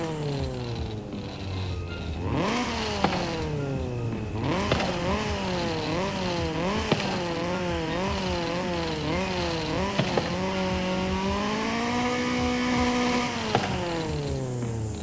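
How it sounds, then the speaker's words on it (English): Nissan 240SX with a 250 hp engine in the Forza Horizon 5 driving game, revving repeatedly with rising and falling pitch sweeps, loud and continuous, including a long steady high-rev stretch, with no talking. "listen to the new 240SX 250 horsepower sound"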